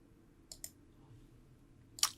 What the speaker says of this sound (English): if you place the cursor just inside the quote and double click, it highlights it